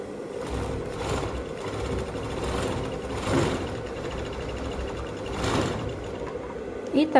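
A sewing machine stitches the fastener seam on women's trousers, running in a steady mechanical whir with a few slight surges and a couple of sharp clicks at the end.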